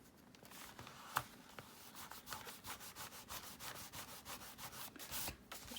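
A finger rubs excess glue off a paper craft page, producing a faint, close, continuous scuffing with a steady back-and-forth rhythm and no speech.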